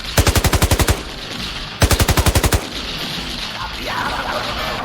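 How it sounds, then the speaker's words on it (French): Machine gun fire in an audio drama: two close, loud bursts of rapid evenly spaced shots, each lasting about a second, followed by ambient rumble. "Ah, y a un mec à la mitrailleuse."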